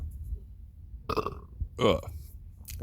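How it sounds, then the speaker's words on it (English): A man reading a biblical commentary aloud lets out two short, close burps in quick succession, with quiet pauses around them. "Excuse me, I have the burp, sorry."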